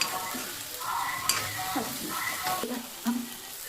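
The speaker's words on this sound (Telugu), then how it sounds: "ఇప్పుడు ఉల్లిగడ్డ మంచిగా వేగనిద్దాం." Chopped onions sizzle in hot oil for a bottle gourd curry while a spoon scrapes and stirs the pan, a steady close frying hiss broken by clinks, with no talking.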